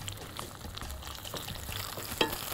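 Fish stirred in hot oil with onion and garlic, a soft continuous frying hiss with light scraping and one sharper clink near the end.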